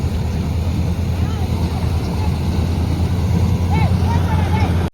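A tractor hauling harvested rice paddy drones steadily and continuously nearby, a low engine rumble with wind noise in a rural field.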